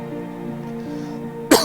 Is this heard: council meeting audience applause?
no